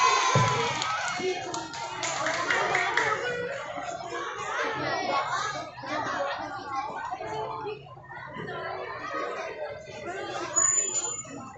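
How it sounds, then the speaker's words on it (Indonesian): Children at a school literacy event cheer, shout and clap together in a lively, sustained crowd noise that fills the room, rising and falling in waves over about ten seconds. "Jadi tepuk tangan dulu dong."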